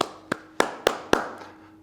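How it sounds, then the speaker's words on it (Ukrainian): Five sharp hand claps, played through a TCL P8K QLED television's sound system, ring out at uneven intervals, each crisp and close, with a short echo trailing after them. "Це оплески"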